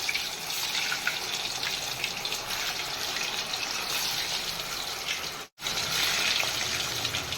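Fish maker pieces frying in hot oil, giving a steady, dense crackling sizzle that keeps up throughout with one brief silent break, and no talk.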